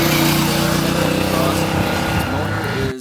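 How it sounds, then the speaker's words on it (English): Naked middleweight motorcycle from a 2011 shootout, its engine humming steadily with a strong harmonic exhaust note before cutting off near the end, with a voice talking over it. "Its motor it sounds really good. Great exhaust note and good power"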